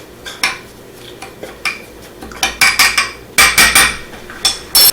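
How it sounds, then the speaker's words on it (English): Asiago cheese bread ingredients, with garlic powder and red pepper, are mixed in a bowl, giving a string of sharp clinks and scrapes of utensil on bowl in irregular bursts, close and fairly loud, with no talking. "Now let's go ahead and mix this up"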